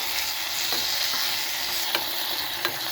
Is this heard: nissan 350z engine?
no